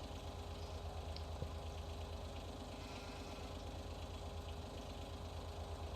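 A farm tractor's engine idles with a steady low rumbling drone and faint knocking, continuous and even throughout, with no voices, at a farm with a tank and a mower.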